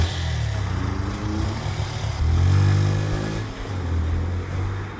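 Motorcycle engine running steadily at speed on a road, a continuous low droning hum that swells louder midway as if revving, then eases, close and alone without speech, staged as a radio play sound effect.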